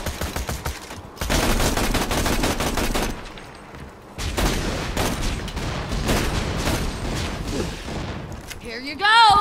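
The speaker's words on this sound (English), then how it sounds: "Getting a pistol battle with him." A loud, rapid exchange of pistol fire in the Borderlands 2 video game: dense volleys with a brief lull in the middle, then a final burst.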